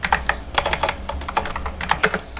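Rapid, close-up typing on a computer keyboard while entering a Java command, with irregular clusters of crisp key clicks continuing throughout and no speech.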